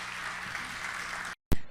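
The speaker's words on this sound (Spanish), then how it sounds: "regalemos una fuerte ofrenda de palmas a nuestro Padre Celestial" Congregation at a church service claps in a dense, sustained round of applause, then it cuts off abruptly into a brief burst.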